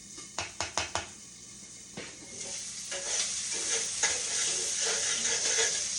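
Sausage frying in a pan on a home stove, opening with several sharp knocks and clatters of a utensil against the pan, then a steady close sizzle that builds and continues to the end with no talk.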